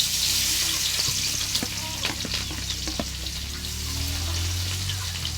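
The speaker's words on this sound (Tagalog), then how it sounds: "Una muna natin ang bawang sibuyas. Kapulahin muna natin siya." Garlic and onion sauté in hot oil for pancit bihon, a steady close sizzle with scattered crackles and stirring scrapes, heard alone.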